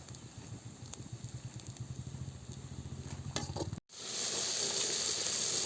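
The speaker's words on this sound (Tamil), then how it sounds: "வெங்காயம் வதங்கிட்டு இருக்கு." Onions sautéing in a pan outdoors on a farm, a close sizzle with a rapid rhythmic clatter of stirring, then a brief cut before a brighter, louder hiss of frying takes over.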